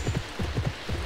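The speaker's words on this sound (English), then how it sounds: "the rain is back." Rain in the horse-riding game Pippa Funnell: Ranch Rescue, a soft, steady patter heard alongside rhythmic low thuds like hoofbeats, fairly quiet with no talking.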